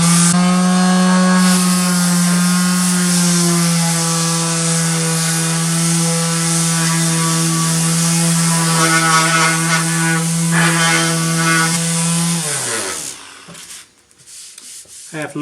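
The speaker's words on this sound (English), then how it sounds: "Well, I'm back for the belt sander." A belt sander runs continuously on a wooden threshold, a loud steady whine with strong hum and rasping grit for about twelve seconds before spinning down and stopping.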